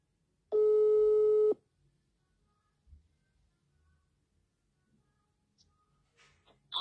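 A telephone tone sounds once as a call is placed, a single loud, steady electronic beep of about a second, followed by near silence with faint small noises.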